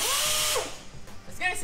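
A power tool whines briefly at high pitch, then winds down, followed by a short burst of talk.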